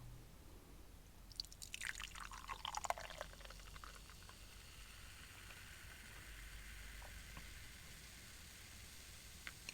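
Drink from a $3 can being poured: a quiet fizzing pour swells for a couple of seconds, then settles into a soft, steady hiss of bubbles, with no talking.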